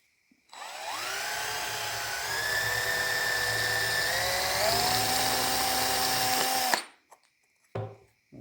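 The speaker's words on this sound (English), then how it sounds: "I'm just going to drill out the center of the can here." A high-pitched drill whines loudly for several seconds, its pitch shifting as it bites through the thin metal of a soda can, then stops abruptly, followed by a couple of soft clicks.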